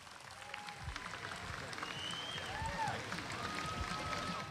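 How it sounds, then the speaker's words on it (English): Applause from an audience at a Hawaii state budget hearing, a steady wash of clapping that holds at an even level for the whole stretch, with scattered whistles or cheers above it. "So big round of applause for Billy V for all he does for all of us all the time."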